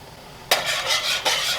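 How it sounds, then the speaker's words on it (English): A whisk stirs beef stroganoff sauce in a pot as it comes back to a boil. Brisk swishing and scraping strokes begin suddenly midway, with a second surge of strokes near the end. No one speaks. "Make sure you whisk it nicely and let it come back to a boil again."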